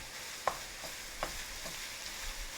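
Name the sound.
garlic sizzling and frying in pan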